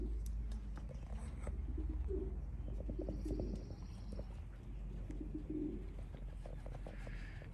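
Racing pigeons coo and call during a training toss, mixed with other birds, soft repeated coos over a steady low outdoor rumble throughout.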